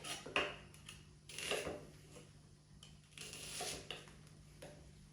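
Knife chopping white onion on a board for a beer-braised chicken marinade, a few soft, irregular taps and clatters, fairly faint over low background hum.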